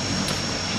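A fixed-wing aircraft engine in the ARMA 3 war game, a steady, loud drone that fills the short moment with no voices over it.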